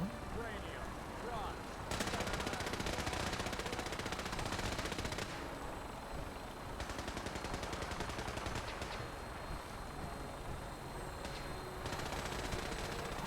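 Sustained automatic gunfire in Fallout 4 crackles in dense, continuous bursts at moderate distance, broken by brief pauses, while someone talks over it.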